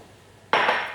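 Water pours into sugar in a pan for a vegan fig roll filling: a sudden, steady splashing hiss starts halfway through and carries on, fairly close and clear, with no talking.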